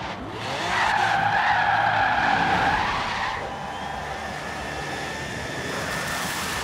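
A fighter jet's engine in the racing game Forza Horizon 3 roars with a loud, high tonal whine for about three seconds. It then settles into a steadier, lower drone.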